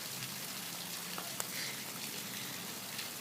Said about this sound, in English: What's a little rain?